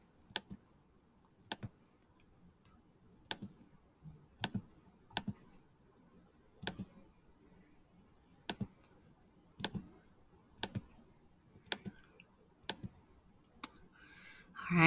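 Numbers keyed into a calculator, sparse single clicks and short double taps at an unhurried, uneven pace, close and fairly quiet against a faint room hum, with no talking.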